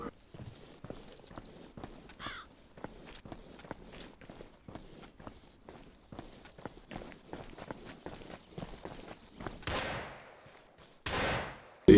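Rapid sharp gunshots from a firefight in the military game Arma 2, many evenly spaced cracks running throughout at moderate loudness, ending with a louder rushing burst.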